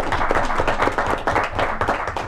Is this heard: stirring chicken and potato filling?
no